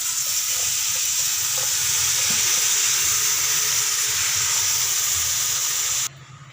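Water pouring into a pot of washed biryani rice for prawn biryani, a steady loud hiss-like rush lasting about six seconds, then stopping abruptly.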